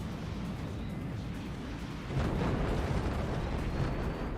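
Anti-aircraft flak fires steadily in the Forts RTS strategy game, a dense rumbling barrage of overlapping bursts that grows louder halfway through and keeps going without a break.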